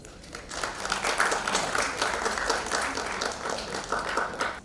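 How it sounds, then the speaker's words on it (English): Sustained applause from a conference audience in Mumbai, a dense steady patter of many hands clapping at moderate loudness for several seconds with no voices over it. "Can we have them give them a round of applause for the wonderful session that they have just shared with us?"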